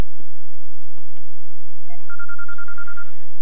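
A quiet, repeating electronic bell tone, the Android "Basic Bell" ringtone, chimes in a quick, even pattern, faint and thin from a small phone speaker.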